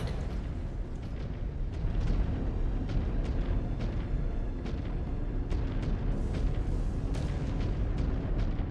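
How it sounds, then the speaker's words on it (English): Artillery shells bursting around a battle mech in MechWarrior 5: Clans, a rapid string of loud booms and crackling impacts layered over constant heavy rumble, with no talk. "Oh, hello, we're getting shelled here."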